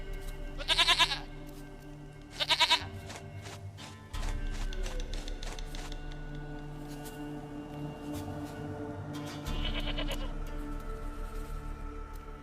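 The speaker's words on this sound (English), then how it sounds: "Goat of mine, dearest, sweetest goat." Goat bleating in The Witcher 3: two quick quavering bleats near the start, followed by a steady low game hum and later a brighter bleat, close and prominent with no talk over them.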